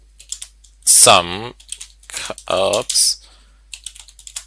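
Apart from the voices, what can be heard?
typing on a computer keyboard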